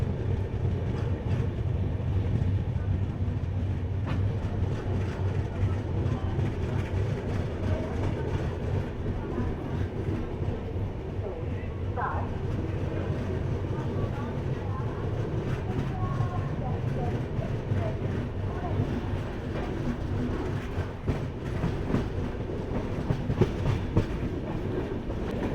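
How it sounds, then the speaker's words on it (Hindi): Grand Trunk Express passenger train running on Central Railway between Nagpur and Chennai, a steady close rumble and rattle of the carriage from onboard, continuous throughout, with faint voices in the background. "सेंट्रल रेलवे में अभी चल रहा है गाड़ी।"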